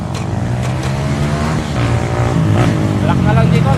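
An enduro motorcycle engine runs on a trail ride, a steady close-up drone with shifting pitch, while people talk over it.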